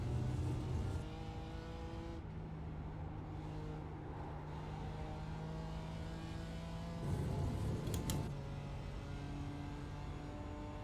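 A race car engine in the iRacing sim at Spa drones at part throttle, with steady tones that shift pitch as gears and revs change and a brief louder surge partway through, with no voices.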